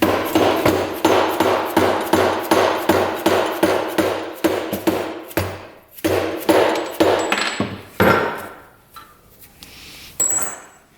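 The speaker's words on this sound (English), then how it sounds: "You can just kind of work it with the hammer here." Rapid metallic hammer blows on a UTV engine case to separate it, about two per second, loud and close, slowing into scattered heavier strikes and scraping near the end.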